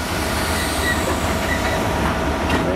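A train rolls steadily through Cardiff Central station, loud and close, with continuous wheel rumble, rail clatter and faint squeals throughout.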